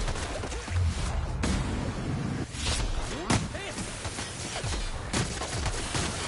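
Gunfire exchange in The Outer Worlds, a sci-fi shooter game, with dense bursts of shots and sharp impacts across a busy combat mix, loud and continuous with a few stronger cracks standing out.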